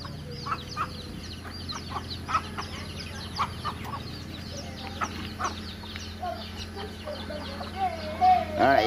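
Chickens on a rural farm, with frequent clucks and chirps from several birds overlapping against a low steady background hum, and a louder squawk near the end.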